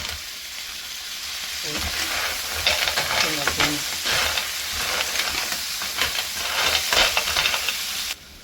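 Cockles stir-fry in a pan with tomato, lemongrass and ginger, producing a loud, crackling sizzle and clattering shells as they are tossed and stirred, steady to the end.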